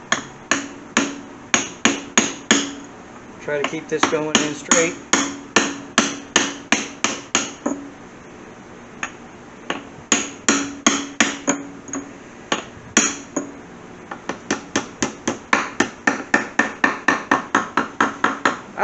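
A brass hammer taps a socket to seat a transmission seal on a C3 Corvette Sting Ray, giving dozens of sharp metallic strikes in rapid bursts, close and loud, with brief pauses between runs and someone speaking briefly.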